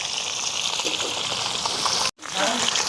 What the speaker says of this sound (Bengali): এই যে মাছটা প্রথম ভেজে নিচ্ছে